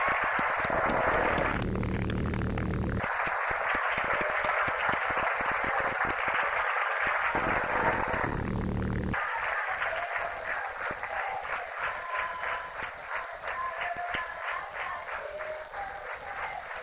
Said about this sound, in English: Please join me in a round of applause for the parents